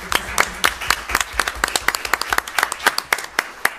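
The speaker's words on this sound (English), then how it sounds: "I would like to give a round of applause to all of our students" A small audience at a school district board meeting gives students a round of applause, a sparse patter of individual claps, fairly close and clearly separated, with a low murmur beneath.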